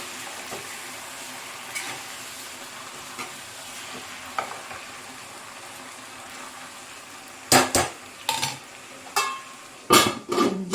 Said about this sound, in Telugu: ఇక్కడ కట్ చేసుకున్న ఆకుకూర వేసేస్తున్నాను ఒకసారి కలిపేసుకుని మూత పెట్టి మగ్గబడదాం